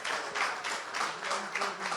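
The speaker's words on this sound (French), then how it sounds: "Applaudissez, s'il vous plaît." An audience at an Afterwork MC evening applauds, a dense, close wash of clapping that swells and dips over two seconds.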